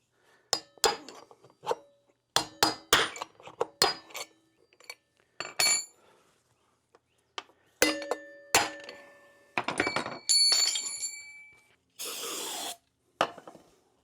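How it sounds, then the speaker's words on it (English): Old wheel bearings being driven out of a Honda CR125R two-stroke dirt bike wheel: sharp metallic hammer strikes ringing in irregular bursts, some with lingering clang, separated by quiet gaps, plus a brief hissing burst near the end. "we'll just drive one side out, drive the other side out, and put our new bearings in"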